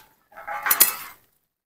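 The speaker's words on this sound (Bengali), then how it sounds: "চাপাটা খুলে নেব।" Lid lifted off a cooking pot of hilsa fish and eggplant curry, a single short metallic scrape and clink, close and fairly loud.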